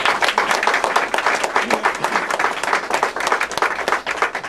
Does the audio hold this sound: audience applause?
yes